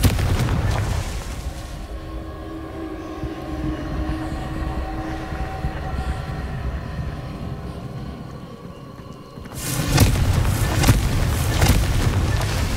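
A Confringo fire spell explosion in Hogwarts Legacy on PS5: a loud, broad blast erupting after a stretch of rumbling ambience, followed by crackling, booming debris.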